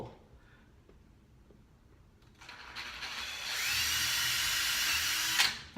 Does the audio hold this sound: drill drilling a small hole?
yes